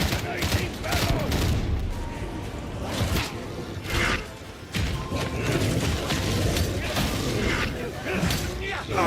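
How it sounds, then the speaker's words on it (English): A barrel detonates in the Warhammer 40k Darktide shooter, with loud, repeated booms and bursts among dense gunfire and whooshes throughout, while voices talk over the chaotic combat. "Detonating barrel!"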